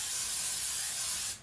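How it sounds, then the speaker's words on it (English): A can of cooking spray hisses steadily into a casserole dish in a kitchen, one continuous close spray lasting about a second before stopping abruptly. "I'm gonna spray my little casserole dish here."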